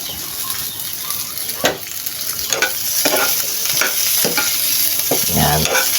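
Onion and garlic fry in hot oil, a steady bright sizzle broken by repeated scraping stirs of a spatula against the pan, close and continuous with no talking.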